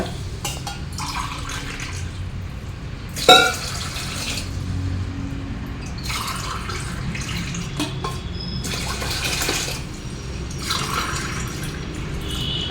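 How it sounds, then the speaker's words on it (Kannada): Water splashes and trickles into a vessel in several separate glassfuls, with a sharp clink of metal partway through, close by and without speech. "ಈ ಥರದ್ದು ಐದು ಲೋಟ ನೀರು ಹಾಕೋಬೇಕು"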